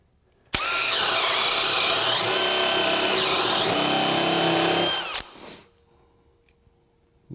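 A DeWalt DCD999 FlexVolt cordless drill bores with a 1¼ inch bit, a loud steady whine with pitch dips as it bogs under load, running about four and a half seconds before cutting off and winding down.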